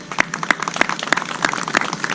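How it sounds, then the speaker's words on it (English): Applause at a college Student Services Center groundbreaking ceremony: a brief burst of claps with a few sharp, evenly spaced strong hits standing out, near and fairly loud. "Let's give them a round of applause, everyone."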